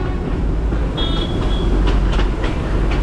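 The Darjeeling Joy Train, a toy train running close beside the road, rattles along its track with a steady, loud low rumble and rhythmic clickety-clack from the wheels, heard from on board.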